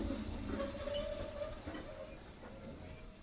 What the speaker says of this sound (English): I'm now just about to take the train back to Ropley